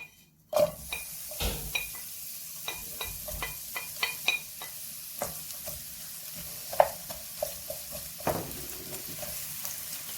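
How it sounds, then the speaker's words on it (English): Onions sizzle in about two tablespoons of hot oil in a pan while a utensil stirs them, sharp scraping clacks over a steady frying hiss, close and without talk. "Into the oil goes the onions."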